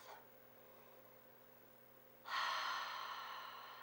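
A deep breath during a beginner yoga stretch: a faint inhale at the start, then a longer, louder airy exhale heard close in a quiet room.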